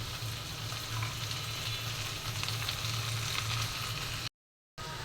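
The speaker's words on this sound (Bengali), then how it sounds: "এখন এটাকে ভালো করে ভেজে নিই।" Drumstick leaves sizzle in a pan with garlic, onion and black cumin, a steady dense frying hiss throughout with faint stirring, briefly dropping out just before the end.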